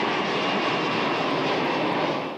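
A passenger airliner roars through its takeoff roll on a transatlantic flight bound for Paris, a loud, steady broadband engine rush that holds even throughout before easing slightly at the end.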